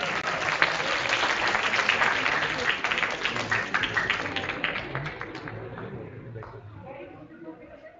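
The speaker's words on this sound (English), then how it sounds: "Everyone, please give a round of applause." A seated audience at a pharmacology department event claps in a sustained, dense round of applause, loud and steady for about five seconds before tapering off into scattered claps.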